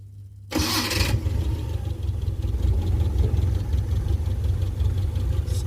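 A Suzuki Carry engine cranks briefly and catches at once, settling into a steady, close-miked idle with a low rumble that holds to the end, and no voices are heard.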